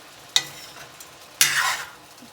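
Salt, red chilli, turmeric, cumin and a pinch of asafoetida hit hot oil for tempering: a short crackle, then a louder sizzling burst that fades over about a second.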